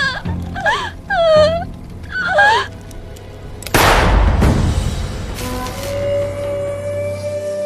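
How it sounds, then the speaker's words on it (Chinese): A single sharp gunshot cracks out in a Chinese drama scene, loud and sudden after a stretch of muffled, whimpering vocal sounds, its echo trailing off with a ringing tone afterward. "好像是枪声"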